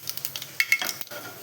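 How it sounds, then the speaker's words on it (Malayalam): Mustard seeds popping in hot coconut oil for Kerala puli inji, a few sharp close pops and crackles over a faint sizzle, with no talking. "അപ്പോൾ ഇതാ കടുക് പൊട്ടുന്നുണ്ട്."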